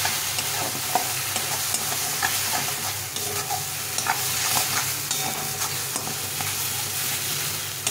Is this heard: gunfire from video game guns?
no